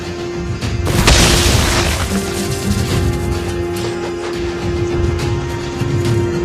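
Loud boom as a turret is destroyed in the Mobile Legends video game, a broad burst followed by sustained rumbling game effects and a steady tone continuing underneath.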